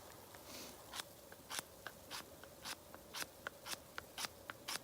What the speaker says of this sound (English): When you use the spine of your knife to shave it like this, you get fine, fine shavings